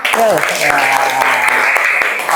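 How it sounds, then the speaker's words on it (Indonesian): Classroom applause from students, a short burst of dense clapping that runs through the clip with voices mixed in. "tepuk tangannya dong"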